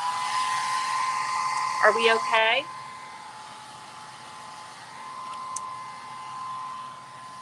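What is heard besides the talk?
hair dryer drying paint layers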